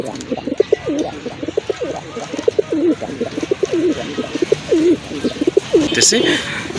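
A pair of medium-sized snake-eyed pigeons coo close by in a rapid run of throaty, rolling calls, with someone speaking over part of the cooing.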